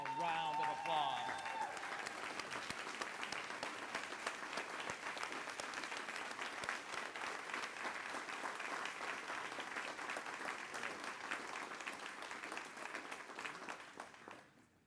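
A standing audience applauds a lifetime achievement honoree at a Green Task Force breakfast awards event, sustained, even clapping over many seconds that tapers off at the end, with a brief murmur of voices at the start.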